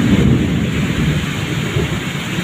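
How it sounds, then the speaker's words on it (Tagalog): Heavy thunder rumbles through steady loud rain, a continuous deep roll with close, dense rainfall and no voices. "Tapos pa ikulog."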